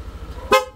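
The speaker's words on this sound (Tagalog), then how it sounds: "sa busina, ang kinabit po natin, Corsa version 3 na horn" A single short Corsa version 3 horn honk on a Yamaha Aerox V2 motorcycle, sharp and fairly loud, after a low steady background hum.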